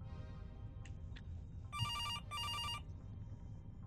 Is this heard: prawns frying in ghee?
no